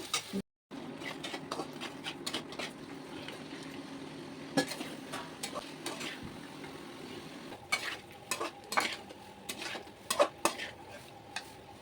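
Poppy seed paste and yogurt stirred in a cooking pan for a vegetarian cauliflower roast: spoon scrapes and clinks on the pan over a faint sizzle, with a brief pause near the start and sharper knocks later.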